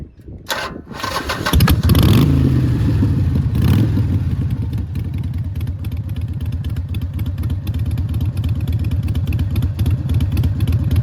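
Harley-Davidson Iron 883 motorcycle with raw exhaust, fired up and then settling into a loud, steady, close-up rumbling idle with no talking.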